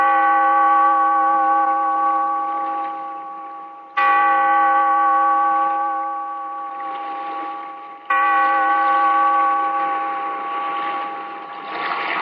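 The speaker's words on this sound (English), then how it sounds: "Bellkeeper, toll the bell, so that all may know we are gathered again in the" Bell in a radio drama tolling three times, each deep, resonant stroke ringing out loudly and slowly decaying before the next, with no voices over it.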